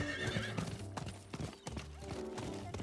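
A horse in the game Diablo IV gallops with rapid, rhythmic hoofbeats and lets out a loud, wavering neigh early on, with game sounds layered underneath.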